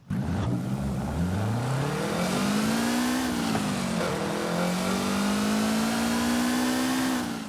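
In the Forza Horizon 5 video game, a Lancia Delta S4 engine revs hard and holds a high, loud roar, its pitch climbing, dipping briefly and rising again over several seconds with no talking.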